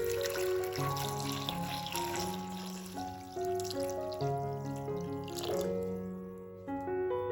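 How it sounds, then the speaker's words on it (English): Tap water runs into a pot of potatoes in a kitchen, a steady trickling fill with ringing, shifting tones as the pot fills, close and continuous without speech. "Transfer to a pot and top up with water."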